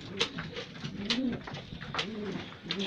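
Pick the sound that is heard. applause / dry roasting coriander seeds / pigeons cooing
pigeons cooing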